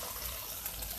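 Water is poured into a pan of fried masala paste for a shark fish mushi masala, a brief soft trickle and pour that is quiet and alone.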